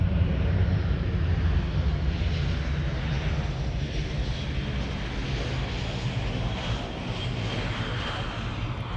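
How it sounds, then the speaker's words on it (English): EasyJet airliner landing at Amsterdam Schiphol Airport, a loud, steady broadband jet roar that holds at constant strength throughout with no voices. "EasyJet has landed in the meantime."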